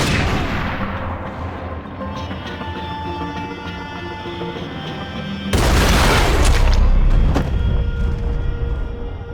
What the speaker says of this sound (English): Pull the trigger, bro!